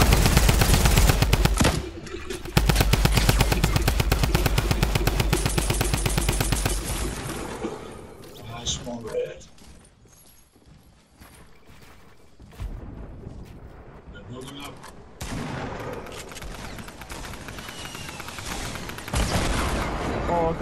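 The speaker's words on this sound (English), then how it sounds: "Ryan, why the fuck do you have a minigun, bruh?" Minigun firing in Fortnite, a loud, sustained, rapid buzzing stream of shots up front that cuts off, then quieter scattered gunfire and more firing near the end, with people talking over it.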